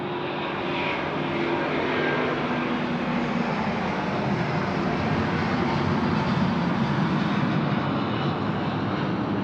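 An airliner comes in to land on runway 34 left at Sydney Airport at night, its jet engines a broad, steady roar heard from a distance that holds throughout.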